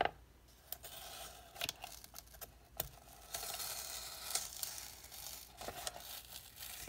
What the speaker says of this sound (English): So there's this like netting type stuff. I'm just gonna cut through that.